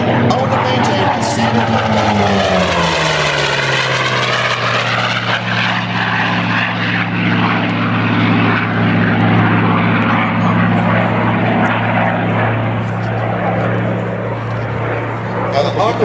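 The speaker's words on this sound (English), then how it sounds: "Now the Hawker Sea Fury stock came with what they called a Bristol Centaurus engine." A Hawker Sea Fury propeller fighter with a Bristol Centaurus sleeve-valve radial engine flies at a California airshow. Its loud, continuous droning roar shifts in pitch as it passes, with an announcer's voice over it.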